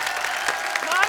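Studio audience applauding for a singer on a comedy talk show stage, a steady wash of clapping across the whole short stretch with no gaps.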